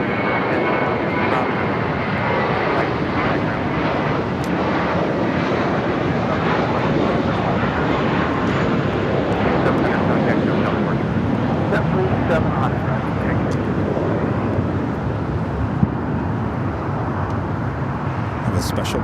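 An Alaska Horizon E-Jet in a special livery lands at LAX on runway 25 left. Its engines give a loud, broad roar that stays close and steady throughout, with some wind buffeting.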